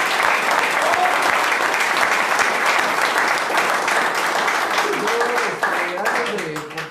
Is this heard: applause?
yes